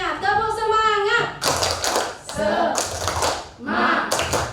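A group of adults at a teachers' training session claps in a patterned rhythmic cheer, sharp bursts of hand claps alternating with shouted voices, loud and close.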